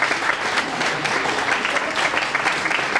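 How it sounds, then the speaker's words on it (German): A game-show studio audience applauds with steady, dense clapping throughout, a sustained close wash of many hands that neither builds nor fades. "ist es ein Applaus wert"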